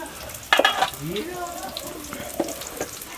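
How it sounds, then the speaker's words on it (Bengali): Chopped onion and garlic dropped into a hot pan for a coconut prawn dish, setting off a close sizzle with a burst of clattering as they land, then steady frying and a few scraping stirs. "পেঁয়াজ কুচি দেওয়া হচ্ছে রসুন কুচি পরিমাণ মতো"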